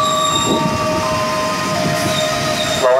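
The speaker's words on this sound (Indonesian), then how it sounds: "Jauh ruangan segera masuk komuter lain tujuan stasiun Jatinegara" KRL Commuter Line electric train at a Jabodetabek station near Pasar Minggu Baru, with loud steady rumbling and sustained high wheel squeal close by, ending in a sharp metallic screech.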